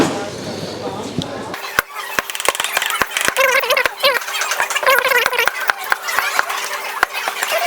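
Knife chopping ingredients on a board at a Thai cooking class in Chiang Mai, a steady run of sharp, close taps under people talking.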